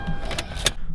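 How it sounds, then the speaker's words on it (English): A car's engine keeps running nearby, a steady close rumble with a few short clunks and rattles over it and no voices. "My car's still running."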